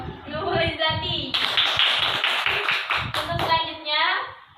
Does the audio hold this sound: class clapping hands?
yes